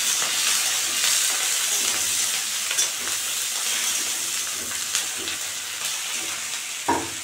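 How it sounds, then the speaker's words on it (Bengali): Shrimp with chilli and garlic frying in mustard oil in a pan, a steady close sizzle with occasional louder pops and stirring clatter, no talking. "সরষের তেল দিয়ে চিংড়ি মাছ দিয়ে দেবো, একসঙ্গে লঙ্কা রসুন"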